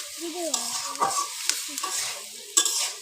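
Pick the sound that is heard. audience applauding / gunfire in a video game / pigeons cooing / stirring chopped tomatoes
stirring chopped tomatoes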